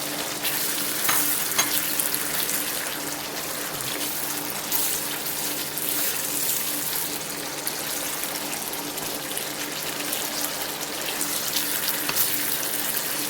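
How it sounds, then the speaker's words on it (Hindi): Eggs frying in hot oil in a karahi for egg masala curry, a dense continuous sizzle that stays steady and fairly loud throughout with occasional faint clinks. "चलिए ऑयल आ गया ऊपर, अब हम इसमें अंडे शामिल करेंगे।"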